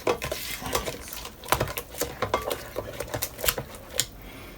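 A spoon stirs milk into banana cake batter in a bowl, giving a quick irregular run of clinks and wet scrapes close by, with no talking.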